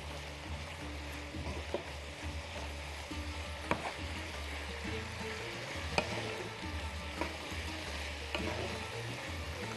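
Onions and vegetables such as spinach sauté in a pan, giving a steady close sizzle with occasional stirring clicks and scrapes throughout, no talking.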